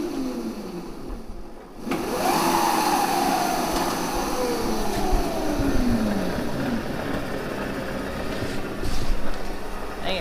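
The electric motor of a Razor Betty 36V scooter fitted with Dewalt-style batteries and a thumb throttle: a loud, steady whirring drone starts abruptly and holds, with a tone that sweeps up and then slowly falls as speed changes.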